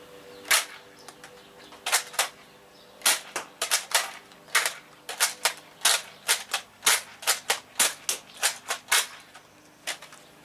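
A Nerf toy gun firing repeatedly, sharp close snapping pops in quick irregular bursts, about two dozen shots over ten seconds with no talk.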